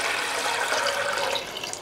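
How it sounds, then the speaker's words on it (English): Water pouring into a vase fitted with chicken wire for a Christmas flower arrangement, a steady close rushing splash lasting the whole moment. "That's going to get filled with water, and then I can arrange straight into the wire netting."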